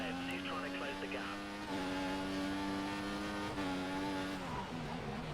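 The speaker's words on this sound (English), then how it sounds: "We think the car behind is running on full revs." A race car engine from the F1 2014 video game drones at high revs, a steady, sustained whine with brief shifts in pitch, fairly faint and held under a voice.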